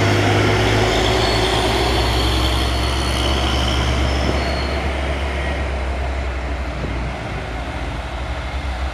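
A Volvo trailer truck strains on an incline and rolls backward, a heavy continuous low rumble and grinding drone holding steady for the whole stretch with no voices over it.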